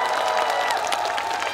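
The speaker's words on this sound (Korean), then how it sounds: "애기들한테 박수 한 번만 쳐주세요." Audience applause at an outdoor autumn flower festival stage show, a steady dense patter of many hands clapping at close range for a brief moment, with faint crowd noise mixed in.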